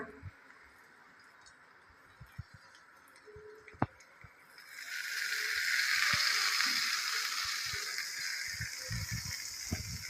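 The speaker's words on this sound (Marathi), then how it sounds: "ही गरम फोडणी आता चटणीवर घालूया" Hot tempering of oil with cumin seeds and asafoetida is poured over peanut chutney, raising a sudden loud sizzle about halfway through that holds steady after a few quieter ticks and clicks.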